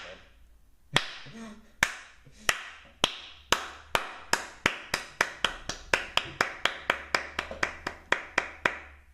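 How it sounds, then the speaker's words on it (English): A single person claps slowly, loud and close, each sharp clap standing alone at first and then coming gradually faster toward the end, with quiet room tone between them. "That was not a sarcastic slow clap, by the way"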